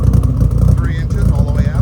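A Mitsubishi Starion engine idling with a steady low rumble and a pulsing exhaust, close by. Someone talks over the engine.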